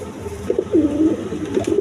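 King pigeons on a pigeon farm coo in soft, repeated low murmurs, several overlapping calls close by against a quiet barn background.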